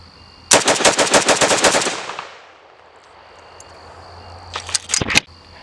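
A Romanian FSC Gen 1 Draco AK-47 pistol fires a fast burst of about fifteen loud, sharp shots that ring off into a decaying echo, followed by a second shorter burst near the end.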